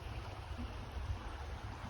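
Creek water rushing during the spring thaw near the Crow Wing River, a steady full wash of running water with a low rumble, close and continuous.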